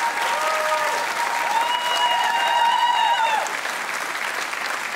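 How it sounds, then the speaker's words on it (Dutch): A crowd at a local dance competition show breaks into loud, dense applause for the performers, a steady roar of clapping with cheering voices rising and falling mid-way, then easing slightly. "Mag ik nog een groot applaus?"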